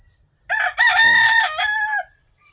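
A rooster crows once, loud and close, a long drawn-out call from chickens kept inside a small house, standing alone against a quiet background.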